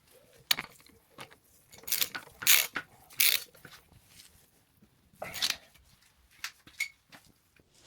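A ratchet tightening engine bolts on a Yamaha MT 125 motorcycle, with quick bursts of clicking pawl and metallic clinks coming in irregular spurts, close and fairly quiet.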